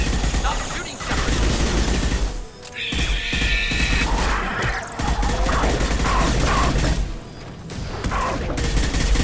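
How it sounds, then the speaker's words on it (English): Sci-fi gunfire from Mass Effect 2 in a dense, loud combat mix of rapid shots, crashes and mechanical clatter, with brief lulls and voices mixed in. "Stop shooting, Shepard!"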